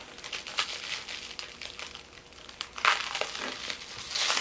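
Shrink-wrapped electric skateboard packaging being peeled open, close crinkling and crackling plastic in irregular bursts that grow louder toward the end, with no talking.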